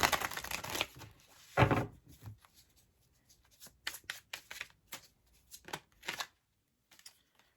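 Tarot cards being shuffled by hand during a reading, heard as close, soft papery riffles and crinkly taps in bursts separated by quiet gaps, with no talking.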